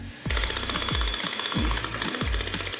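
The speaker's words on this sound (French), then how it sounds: "je vais percer le cadre afin de l'enficher dans le mur avec du coup des tiges filetées" A hammer drill bores through a wooden frame into a wall, a loud, steady percussive rattle with rhythmic surges roughly every half second, close and uninterrupted, with no talking.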